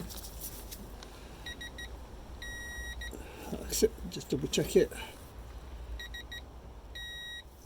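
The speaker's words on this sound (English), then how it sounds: "You'll hear the beep." Electronic beeps from a torque wrench reaching 25 foot-pounds sound in short repeated bursts at several points during a 2005 Hummer H2 transmission fluid change, with someone speaking briefly in the middle over a low steady hum.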